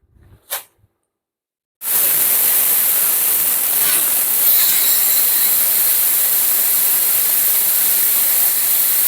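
Pressure cooker cooking beef for a Kerala-style beef fry lets out a loud, continuous steam hiss that starts abruptly after a short sound and holds steady throughout, with no talking.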